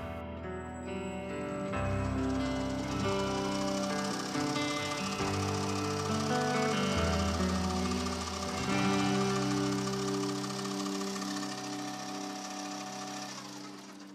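A drill bit grinds steadily into PVC pipe on a small lathe, a continuous whirring machine hum with shifting pitch, loud and close.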